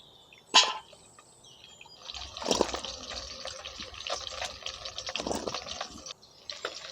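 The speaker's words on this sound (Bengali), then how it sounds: "এবার আমি আলুটা ধুয়ে এই ফুটো চুবড়ির মধ্যে তুলে নিচ্ছি।" Potatoes are rinsed in water with splashing and sloshing that starts with a sharp splash, then builds into continuous swishing and dripping at close range, with no one talking.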